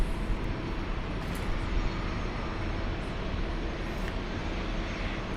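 A Boeing C-17 military transport aircraft at Dallas Love Field makes a fairly quiet, steady engine rumble, continuous throughout with a few faint brief higher noises over it.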